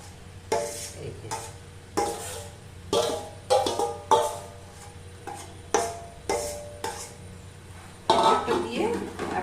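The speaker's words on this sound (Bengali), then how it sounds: "এই যে ভালো করে কষিয়ে নেব।" Young jackfruit filling is stirred and sautéed in a pan, a spoon scraping and clattering against the metal in repeated bursts with a low frying hiss beneath, fairly close and moderately loud.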